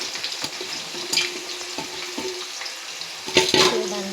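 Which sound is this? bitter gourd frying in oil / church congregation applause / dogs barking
bitter gourd frying in oil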